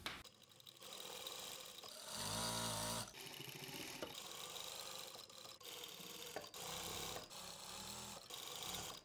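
A sewing machine stitches fabric for churidar gathering pants in short, quiet bursts of rapid whirring, with brief pauses between runs and no talking.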